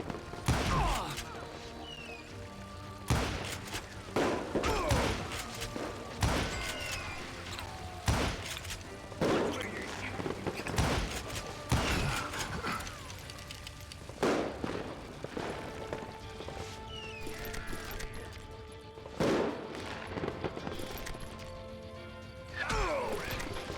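Gunfire in the game Call of Juarez: Gunslinger, a series of sharp loud shots spaced a few seconds apart, each cracking with ringing tails over faint background music.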